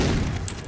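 A frag grenade goes off in the Far Cry 3 video game, leaving a deep, rolling boom that rumbles and slowly fades away over a brief moment.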